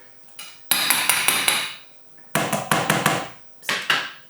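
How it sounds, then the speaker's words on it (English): Red kidney beans being squished in a bowl with a potato masher for a rajma curry, heard as three close bursts of repeated thudding, squelching strokes, each burst fading out before the next. "with a potato masher or a spoon or a fork, just give them a good squish"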